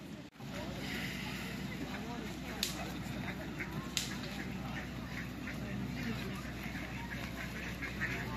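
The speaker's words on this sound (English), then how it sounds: "We could just feed the ducks." Ducks at a riverside park on the Thames at Marlow, heard amid steady outdoor wind and water ambience with a couple of brief sharp calls standing out, fairly faint and distant.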